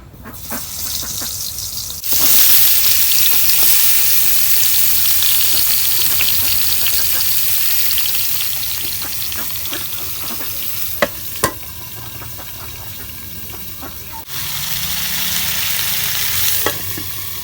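Pointed gourd slices frying in hot oil in a wok, a loud continuous sizzle that swells after they drop in, with occasional sharp clinks of a spatula stirring, no talk.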